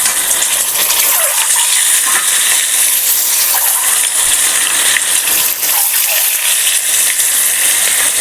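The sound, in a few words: boiled eggs frying in a pan with turmeric and salt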